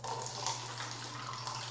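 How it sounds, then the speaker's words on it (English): Thick grass jelly drink being poured into a cup, a soft continuous trickling and splashing of liquid up close, fairly quiet over a low steady background hum. "Alright, pour some in his cup."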